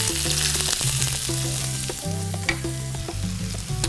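Onion and baby corn fry in hot oil for crispy Chinese-style corn, a steady close sizzle with stirring under background music.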